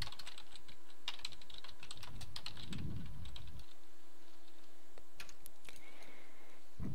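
Keys clatter on a computer keyboard in quick irregular bursts with brief pauses, close and fairly quiet, while cut settings are entered in Silhouette Studio; no one speaks.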